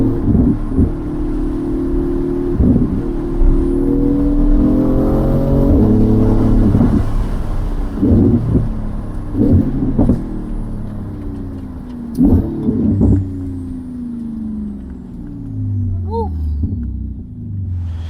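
Porsche 911 GT2 accelerating hard, a loud close engine roar climbing through several gears with repeated rising pitch sweeps and brief dips between shifts, then easing off toward the end.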